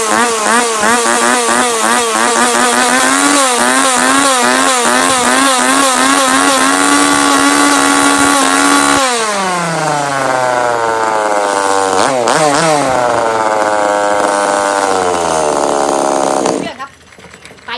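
A Tanaka two-stroke chainsaw engine revs hard and close, climbing and falling in pitch for about sixteen seconds, then cuts off abruptly.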